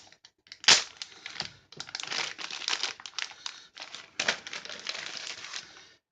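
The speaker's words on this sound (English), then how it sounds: "We use this one to cut it open." A survival knife slices open a package up close with a sharp initial rip, then crackling, crinkling bursts of tearing cardboard and plastic in uneven clusters.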